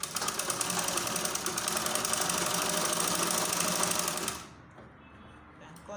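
A sewing machine stitching a butterfly gown runs at a steady, rapid clatter for about four seconds, close and loud, then stops, leaving quiet room tone.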